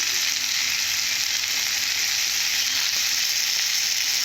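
Chili powder hits a sizzling pan for a bitter gourd curry, a loud close hiss of frying that holds steady and dense for the whole few seconds with no voices.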